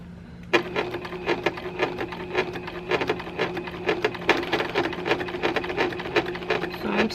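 A sewing machine stitches along the white edge of a scrappy quilt binding, a close, steady rapid needle clatter starting after a brief pause and running to the end, with no one speaking.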